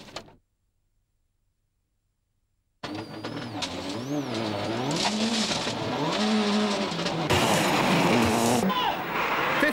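A Toyota Celica rally car with failed power steering slides along a gravel stage, its engine revving up and down through the gears as it rushes close past, loud and sustained after a brief silence, with a commentator talking over it.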